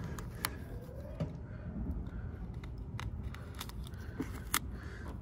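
Vinyl wrap film for a DIY vehicle wrap being cut by hand: quiet, scattered snips and sharp clicks up close, repeating irregularly over a low steady background hum.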